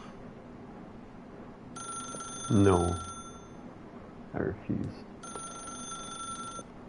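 A telephone rings in the video game The Stanley Parable, two bursts of bright electronic trilling set apart by a short pause, while a voice speaks between the rings.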